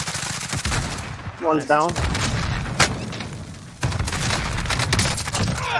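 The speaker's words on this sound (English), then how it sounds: "They shooting at us from behind, so be careful." Rapid enemy gunfire from Call of Duty Warzone crackles in dense bursts throughout, with sharp individual shots among the volleys, while a player speaks briefly over the shooting.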